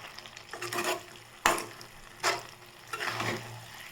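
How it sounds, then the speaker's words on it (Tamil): Veg keema curry masala is sautéed in a pan; about four bursts of frying and scraping stirs come and go, with one sharp knock of the spoon against the pan between them. "அது வரைக்கும் நல்லா வதக்கணும்"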